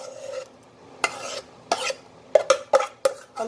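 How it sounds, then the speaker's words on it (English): A spoon scrapes and spreads sweet potato pie filling in a pie dish, a series of short rasping strokes, sparse at first, then quicker in the last seconds, close and clear. "So just even it out like that with the spoon all the way across."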